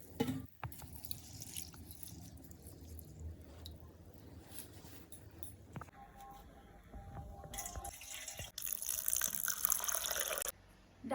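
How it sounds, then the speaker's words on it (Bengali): Chana and masoor lentils being washed in water in a kitchen, with close splashing, swishing and dripping, then a louder run of pouring or rinsing water near the end. "ডালটা ভালো করে ধুয়ে নিয়েছি তিন চারবার"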